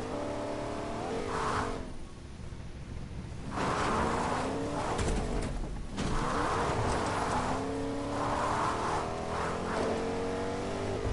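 A truck in Fortnite drives with an engine that revs and surges and tires that squeal and skid. The sound is loud and continuous, with several rising accelerations and no talking.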